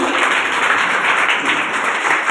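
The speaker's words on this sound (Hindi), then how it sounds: "जबरदस्त तालियां बनती हैं" Audience applause at a seminar presenting a health-care plan: a dense, steady wash of many hands clapping together, loud and continuous for a couple of seconds with no voices over it.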